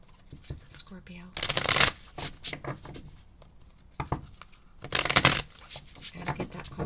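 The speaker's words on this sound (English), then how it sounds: "Gotta get that call to stop shuffling" Tarot cards being shuffled make two brief riffling bursts of papery flutter among soft taps and rustles, with a quiet voice speaking in places.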